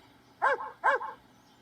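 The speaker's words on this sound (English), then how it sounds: "How do dogs communicate? They bark." A dog barks twice in quick succession, two short, clear, moderately loud barks close by over a quiet background, with no talking.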